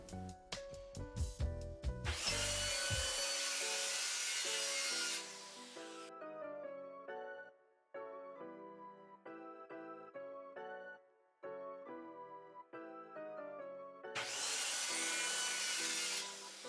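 A saw cuts off a clamped wooden board in two loud, rough bursts, one lasting a few seconds and one near the end, set against a background of tonal music.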